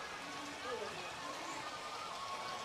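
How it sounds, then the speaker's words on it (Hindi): Natural Gaumukh spring water pouring constantly at Chittorgarh Fort, a steady broadband splashing rush that runs unbroken and fairly loud throughout. "ये नेचुरल ओरिजिनल ये है जो गौमुख जलधार।"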